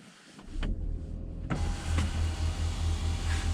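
An electric motor whirs steadily as the panoramic roof of a Ford Kuga Vignale opens, heard from inside the cabin with a couple of soft clicks and a constant low hum.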